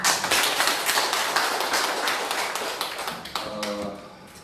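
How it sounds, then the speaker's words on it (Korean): An audience at a Bareunmirae Party leadership candidates' Q&A session bursts into dense, steady applause that carries on for several seconds, with a voice starting to speak over the tail of the clapping. "박수 한번 던져주십시오"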